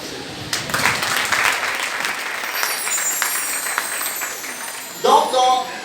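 A church congregation applauds the Lord in sustained, dense clapping that carries on steadily, with a brief louder burst of voices near the end.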